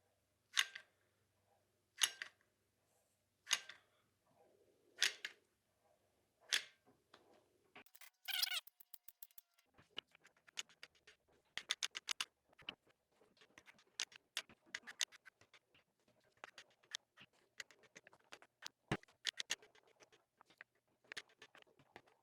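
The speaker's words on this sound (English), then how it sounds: "we're just going to treat this like your kind of traditional caulking sealant gun. Just give it a squeeze and lay out our jerky strips." Ground beef jerky mix pushed out of a caulking-style jerky gun and laid in strips on a rack: five evenly spaced squeezing clicks at first, then a run of faint irregular ticks and soft pats, close and quiet.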